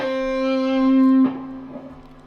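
Distorted electric guitar plays a phrase from a guitar solo: a sustained bending note, then a quick pull-off to lower notes that fade out, loud and alone.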